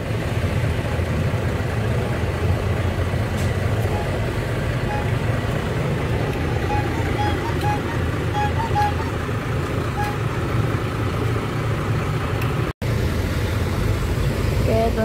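The Harapan Jaya H 498 bus idles at the terminal before leaving for Surabaya, a steady, loud, low diesel rumble that runs unbroken, with faint background activity around it.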